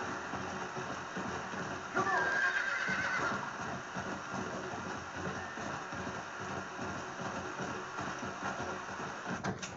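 A horse whinnies in the Red Dead Redemption: Undead Nightmare video game, one loud neigh early on, followed by hoof clip-clops and game ambience continuing steadily.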